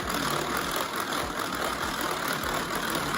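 A Speedy 2 two-speed hand mixer whips 150 ml of whole liquid cream into chantilly, its motor giving a steady, close, continuous whir that never lets up.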